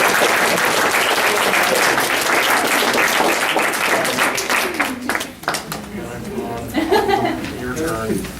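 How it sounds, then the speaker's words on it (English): Audience applause at a literary reading event fills the room: loud, dense clapping for about five seconds that thins out and fades, followed by scattered claps, murmurs and a little laughter. "let's do another round of applause."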